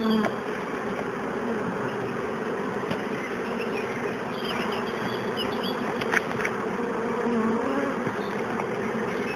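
Honeybees buzzing densely beside a hive in an apiary during a dandelion honey harvest, a close, steady swarm drone that never lets up, with no speech.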